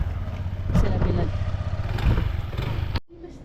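A motorcycle engine rumbles and clatters close by at a mountain trailhead while the bike is moved into the shade, with a couple of heavier knocks before it cuts off abruptly.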